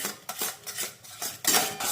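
A spoon scrapes and clinks against a pan while a mango and chhena mixture with ghee is stirred, a series of close, uneven metallic strokes, the last ones louder.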